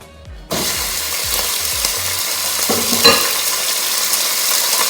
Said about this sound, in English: you can tell it's hot because you can hear the oil just like ready to go